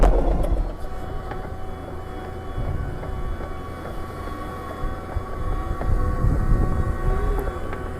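A Case DL550 Minotaur dozer pushes a nearly full blade of dirt on a job site, its engine a steady low rumble with tonal whine and clanking tracks, loud and continuous throughout.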